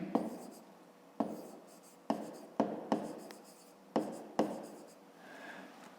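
Pen or chalk writing by hand during a fifth-grade maths exercise, a close series of scratchy strokes with sharp onsets, about six bursts over a few seconds with brief pauses between them.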